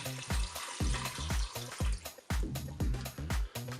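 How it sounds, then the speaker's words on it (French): Water pours from a tap into a pot of dry farfalle pasta, a broad splashing rush with repeated low thumping pulses as the stream shifts, steady and close with no talk. "Je vais mettre de l'eau au ras des farfelles."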